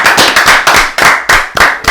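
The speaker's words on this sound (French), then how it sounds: "On peut l'applaudir. Applaudissez Jerry." An audience applauds a player named Jerry at a gaming event, a short burst of close, loud, uneven hand claps from a small group.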